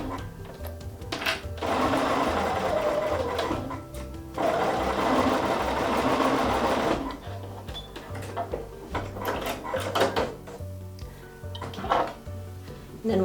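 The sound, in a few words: sewing machine stitching quilt pieces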